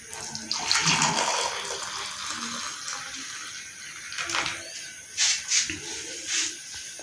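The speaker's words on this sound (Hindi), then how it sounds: "अभी हम इसको कप में डाल रहे हैं।" Tea is poured into a cup in a village kitchen, first as a gushing stream for about three seconds, then as quieter trickles and a few short splashes near the end.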